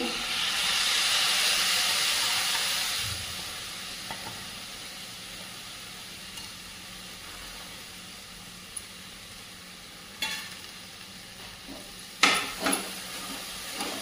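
Chopped spring onion greens hit a pan of sautéed peanuts with a steady broad hiss that fades gradually, followed by occasional sharp clinks and scrapes of stirring toward the end; no talking.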